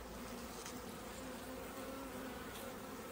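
Honeybees buzz in a steady, dense drone during a subarctic hive inspection, the close, continuous hum of many wings filling the whole stretch without pause.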